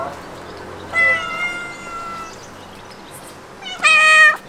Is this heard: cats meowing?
yes